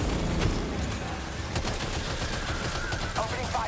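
Gunfire in the video game Death Stranding 2, a steady rattling fusillade of shots running throughout at constant loudness, with a voice talking faintly over parts of it.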